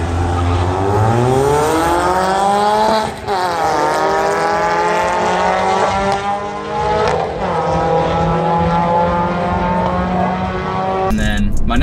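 A Mini fitted with a Milltek non-resonated cutback exhaust and Janspeed decat revs hard and loud, its engine note climbing and dipping through several rising sweeps over about twelve seconds, with a sharp burst at the end.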